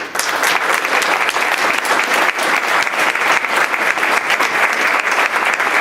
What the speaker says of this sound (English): I think we should have a round of applause for DMH for getting this launched